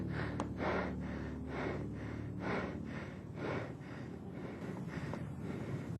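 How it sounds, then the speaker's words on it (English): Person breathing heavily and rapidly while filming a frightening sighting, a regular series of close, loud breaths roughly every half second, over light wind noise. "he can be heard breathing heavily in the video clip"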